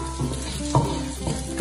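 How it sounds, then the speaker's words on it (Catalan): Garlic fries in oil in a pan while a fideuà is being prepared, giving a steady close sizzle with light stirring scrapes and a couple of louder crackling bursts. "a fregir una miqueta aquests alls, eh?"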